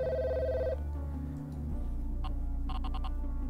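Telephone ringing in a video game, a loud, close trilling electronic ring layered over the game's low droning music, with repeated short bursts of ringing toward the end.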